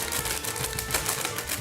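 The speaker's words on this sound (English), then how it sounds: "That's me typing about how angry I am about your gameplay." Rapid clattering keystrokes on a computer keyboard, typed in a steady burst of clicks close to the mic with no voices.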